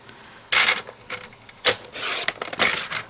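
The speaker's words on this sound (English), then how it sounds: "So right now I'm just cutting 4 1/2 inch strips because I will need 4 full 1/2 inch strips." Paper strips for cardmaking are cut with a paper trimmer, giving several sharp, close rasping strokes of the blade sliding across, with short quiet gaps between passes.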